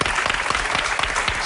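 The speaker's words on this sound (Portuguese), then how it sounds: "Um grande aplauso para o escritor." Loud, dense applause from a television studio audience fills the whole stretch steadily, with no pauses or individual voices standing out.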